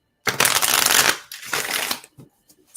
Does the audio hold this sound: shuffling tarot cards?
yes